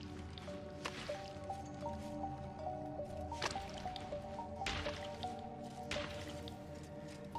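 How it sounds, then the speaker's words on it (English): Acid dripping into puddles in the video game Baldur's Gate 3, heard as steady wet drips and squishy splashes over a layered, droning game ambience, with a few sharper liquid hits standing out. "the rest of our party blithely walking through puddles of dripping acid"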